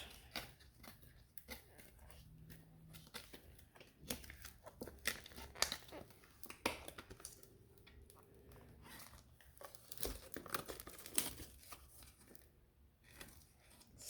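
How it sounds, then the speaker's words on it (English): Silicone mold for a three-tier resin tower server is slowly peeled apart, giving quiet irregular rubbery crinkles, tearing-like rasps and soft creaks close by. "I'm just taking my time pulling it apart, making sure that I don't rip my mold."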